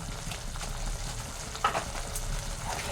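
Ginger and black pepper paste sautéing in oil, a soft steady sizzle with light stirring scrapes and a couple of brief utensil knocks, close and fairly quiet, no voices.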